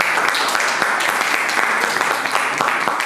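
Forum audience applauding speakers at the close of a session, a steady dense wash of clapping filling the hall throughout, fairly loud and without talk.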